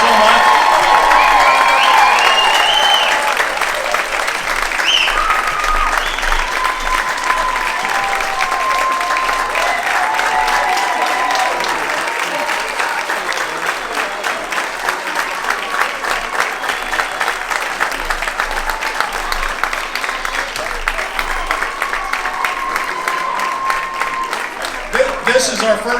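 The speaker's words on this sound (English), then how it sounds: "Let's give them one last round of applause." Audience at a seniors' talent show in Knoxville, put on by Morning Pointe, breaks into a long, steady round of applause with scattered cheers. The clapping stays loud and dense from start to finish.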